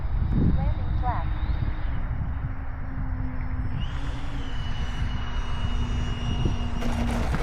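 Remote-control model F-4 Phantom II jet comes in to land with a steady, continuous engine whine and rushing air, voices talking over it throughout.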